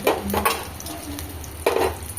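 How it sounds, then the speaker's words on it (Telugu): Tempering spices sizzle in hot oil for a radish chutney, a soft hissing fry broken by a few brief clinks and scrapes of stirring in the pan, close and fairly quiet. "ఇక ఆయిల్ పోపు దినుసులు వేసుకుంటున్నామండి"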